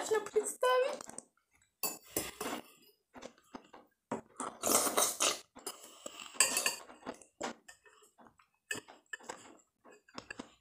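Metal fork clinking against a bowl while eating borscht, with scattered sharp ticks and scrapes in irregular bursts, close up, mixed with some vocal sounds.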